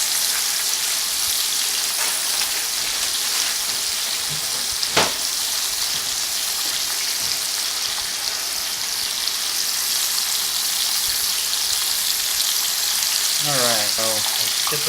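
Pork chops frying in a pan for cinnamon apple chops: a loud, steady sizzle and crackle throughout, broken by a couple of brief clicks and a short knock near the end.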